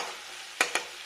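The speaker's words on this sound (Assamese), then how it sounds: "অকণমান দেৰি লৰাই দিম" Food fries in a pan with a soft, steady hiss, broken by two quick stirring scrapes close together near the end.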